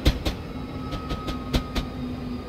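A train in Train Simulator 2015 rolls along with a steady rumbling hum, broken by sharp, irregular clicks and clacks of wheels passing over rail joints, close and fairly loud.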